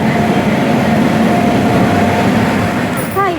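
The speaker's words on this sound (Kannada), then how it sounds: "ಟ್ರೈನ್ ಕೂಡ ಕರೆಕ್ಟ್ ಟೈಮಿಗೆ ಅಂದರೆ 7:15ಗೆ ಹೊರಡ್ತು ಶಿವಮೊಗ್ಗದಿಂದ" A passenger train departing Shivamogga produces a loud, continuous rumble of wheels and carriages heard from on board, with a brief high squeal near the end.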